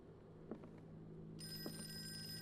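A telephone rings in the Call of Cthulhu horror game, its bright bell starting partway through over a low ambient hum, with a couple of soft knocks before it.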